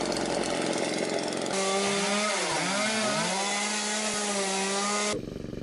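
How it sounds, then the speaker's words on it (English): A Stihl combi multi-head power tool trimming trees, its engine note rising and falling in pitch as the cut loads it, loud and close, running steadily for about five seconds before dropping away. "trimming up some trees on this property for a client with the steel combi multi-head attachment"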